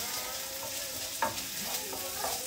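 Garlic fries in a pan with a steady, close hissing sizzle and faint crackles, with a soft stir or tap partway through.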